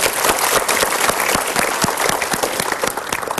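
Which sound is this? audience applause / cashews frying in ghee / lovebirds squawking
audience applause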